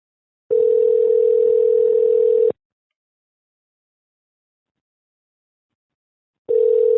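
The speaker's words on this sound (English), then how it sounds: "They say bear with me and it starts ringing." Telephone line on hold producing a steady electronic ringing tone: one long two-second tone, a silent gap of about four seconds, then the tone starting again, loud and clean with no talk.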